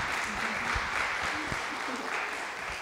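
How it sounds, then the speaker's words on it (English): An auditorium audience applauds the artists after a talk, with dense, even clapping throughout and faint murmuring voices mixed in underneath. "let's give them a round of applause"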